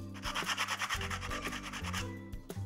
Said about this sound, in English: we can immediately start sanding